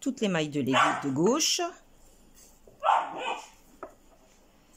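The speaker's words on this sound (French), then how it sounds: "C'est mon chien qui commence à s'exciter un petit peu." An excited pet dog barks indoors during a knitting session, with a couple of short yips and barks mixed in among someone speaking French nearby.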